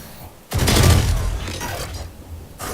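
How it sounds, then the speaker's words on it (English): A flashbang grenade goes off in a deathmatch video game, a sudden loud burst that swells after a brief quiet moment and then rings and decays over about two seconds, with a second sharp onset near the end. "Flashbang!"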